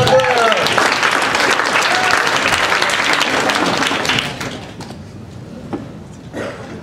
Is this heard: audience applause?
yes